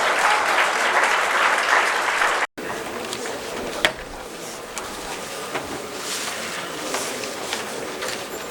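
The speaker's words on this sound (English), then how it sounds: "A loud round of applause, please." Audience applause after a keynote address at a formal event, a broad steady clatter of many hands that continues past a brief break, with a few louder claps standing out.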